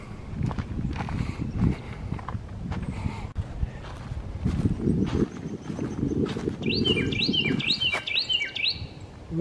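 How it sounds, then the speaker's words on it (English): A Carolina wren sings on a wooded park trail on a March morning, its clear repeated whistled phrases rising over the crunch of footsteps on the path. "I hear a Carolina wren"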